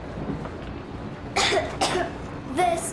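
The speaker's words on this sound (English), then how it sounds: "I have this cough." Several harsh coughs from a character in the video game Metro Exodus, a pair followed by another burst, close and fairly loud over a faint background hum.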